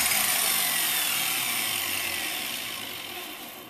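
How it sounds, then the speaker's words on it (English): A grinder fitted with a 3M bristle disc works a surface, producing a loud, dense, harsh abrasive hiss that holds steady and then slowly fades toward the end. "That's the 3M bristle disc."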